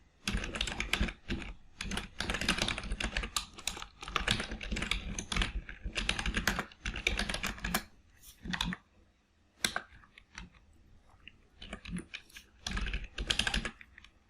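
A password being typed on a computer keyboard: bursts of quick, close key clicks with brief pauses between runs, with no talk over them.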